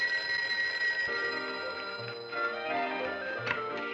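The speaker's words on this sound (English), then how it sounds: "The phone hasn't stopped ringing all morning." A telephone bell rings steadily and fairly close in a comedy TV show interior, its ringing sustained alone without talk for a few seconds.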